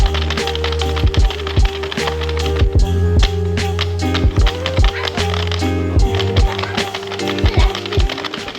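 A knitting machine runs with yarn, its carriage clacking and thumping in a steady rhythmic pattern of loud, repeated knocks and rattles up close, with no speech.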